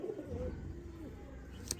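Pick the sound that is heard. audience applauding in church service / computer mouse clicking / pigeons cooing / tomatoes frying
pigeons cooing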